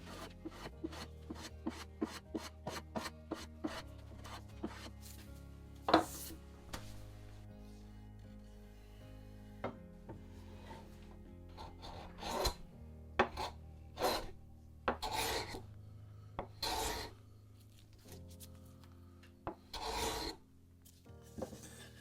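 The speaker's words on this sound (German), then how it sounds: "Die Kanten lassen sich am einfachsten mit einem Hobel nacharbeiten." Hand plane working the wooden edges of an old step ladder under restoration, a series of close, dry rasping strokes in an irregular rhythm, some sharper and louder than others, with no talk.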